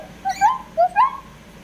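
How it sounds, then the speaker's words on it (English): Pet lovebirds give loud, shrill whistling calls, about four sharp rising chirps in two quick pairs, close by with no talking. "They're actually good. But they're loud birds."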